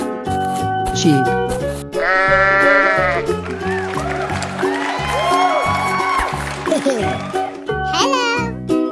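Wavering bleats from a cartoon sheep in a 3D animal slide video game, several quivering calls over steady cheerful game music, with a childlike voice chattering in between.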